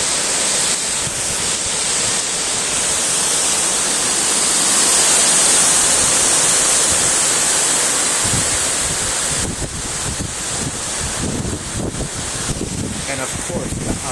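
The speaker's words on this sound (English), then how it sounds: "The winds are expected to reach up to 100 miles per hour." Strong Hurricane Sandy winds on Long Island roar as loud, continuous buffeting that blasts against the microphone, with surging gusts and a voice speaking underneath.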